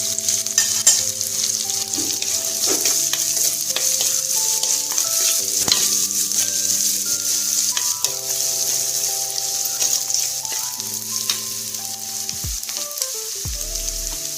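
Onions sautéing in a pan for a crab curry, a steady loud sizzle running throughout the clip, with occasional clinks of a spoon stirring against the pan and no voices.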